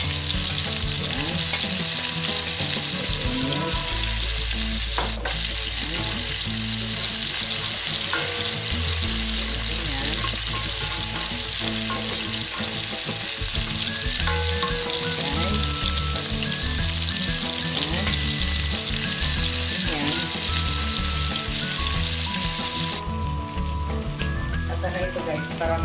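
Pork and white onion fry in a hot pan for a spicy pork dish, a dense continuous sizzle close by with occasional stirring scrapes, and a voice talks faintly underneath.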